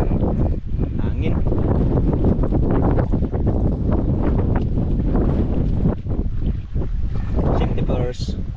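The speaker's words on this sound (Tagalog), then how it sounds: "Hangin." Strong wind at sea buffets a small fishing boat, a loud, gusty roar with rough rushing bursts throughout, while voices talk over it.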